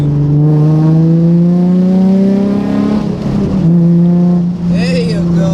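Nissan 350Z engine fitted with a Manzo Y-pipe and test pipes, heard up close, loud, holding a strong steady drone that rises in pitch, dips briefly, then settles again.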